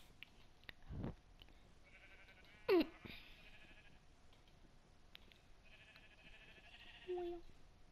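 Sheep in Minecraft give several short, clear bleats at moderate distance, one sharp call near the three-second mark and quieter ones later, over a faint steady background hum with no talking.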